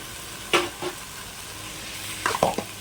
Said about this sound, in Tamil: நல்லா வதக்கி விட்டுருங்க